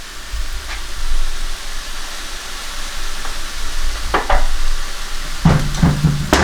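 Keto cauliflower-style rice stir-fried with shrimp, butter, green onion and fried onion in a pan, giving a steady low sizzle with scraping stirs and a few sharper clatters near the end.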